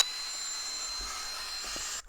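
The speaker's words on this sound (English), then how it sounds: "I'm just going to hoover inside the drawers to get rid of any dust or any buildup or whatever is inside there" A vacuum cleaner hoovers inside emptied clothes drawers, a steady close whining roar with a high tonal whine, with a few faint knocks as the nozzle moves, then a brief drop in the motor sound at the end.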